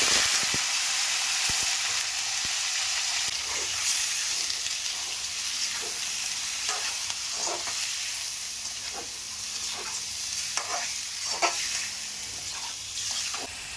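Cleaned chicken, three quarters of a kilo, sizzles and fries steadily in a pan for pepper chicken curry, a continuous close hiss with occasional stirring scrapes and no talk.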